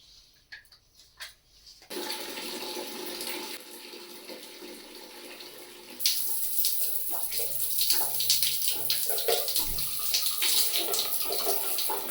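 Tap water runs steadily during a bath before a Radha Ashtami puja at home, a broad hiss that starts low, grows louder after a couple of seconds and splashes more heavily near the end, with no talk.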